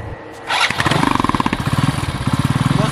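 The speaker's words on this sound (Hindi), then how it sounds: "अब बाइक को करते हैं स्टार्ट" A motorbike is kicked into life with a balloon taped over its silencer: after a brief quiet lead-in a sharp start bursts out, settling into a loud, close, steadily pulsing idle that chugs rhythmically to the end.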